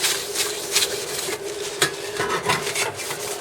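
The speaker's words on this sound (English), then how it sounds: "Tiny squirt like that. And just give it a gentle wipe" Gentle wiping and rubbing on an Atari 7800 console being cleaned with contact cleaner, a steady close scuffing texture with small bursts of friction and no talking.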